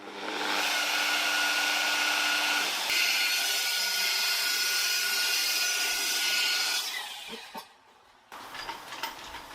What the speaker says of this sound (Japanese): ここまで磨いたら次はポリッシャーに白棒、これで磨いていきたいと思います。